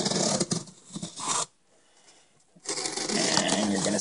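A Kershaw knife slices open a heavy cardboard shipping box in two bursts of close scraping and tearing, split by a second of near silence.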